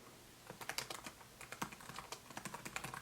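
Typing on a Snugg folio keyboard case for an iPad Mini, a quick run of light plastic key clicks in an irregular rhythm, close and fairly quiet with no talk.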